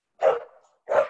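Two loud, close barks from a dog in a home during a workout session, separated by a short pause, with no talk over them.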